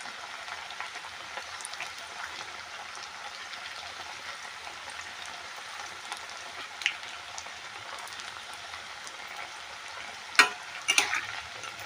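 Thin slices of cabbage pakora deep-frying in hot oil give a steady, soft sizzle with fine crackling throughout, with a few louder pops and spits near the end.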